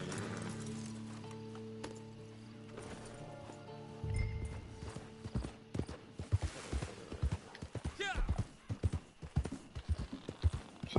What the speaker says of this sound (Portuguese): Esse é o meu cavalo.